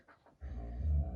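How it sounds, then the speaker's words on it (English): A small puppy lets out a low, rumbling growl, close by and building steadily over less than a second after a faint sound at the start. "the noise of my ferocious puppy in the background"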